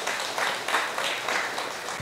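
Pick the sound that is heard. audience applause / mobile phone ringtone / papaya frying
audience applause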